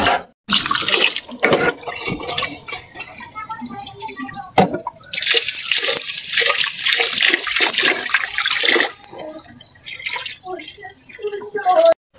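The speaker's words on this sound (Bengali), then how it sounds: "ডালগুলা ভাজা হয়ে গেছে, এখন ধুয়ে নিব।" Tap water runs while fried lentils are washed, starting and stopping in several bursts of splashing flow with drips in between, close by.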